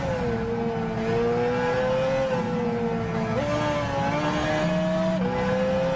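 Hyundai rally car in Gran Turismo 6 revving hard on a mountain climb, a steady loud engine drone with tonal pitch that holds, then steps up sharply twice as it shifts and accelerates, with no talk over it.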